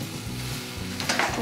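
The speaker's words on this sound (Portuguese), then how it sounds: "Leite está fervendo, eu vou desligar para ele não subir." Milk heating to a boil in a pan on the stove for creamy hot chocolate gives a steady close bubbling sizzle, with brief brighter spattering near the end.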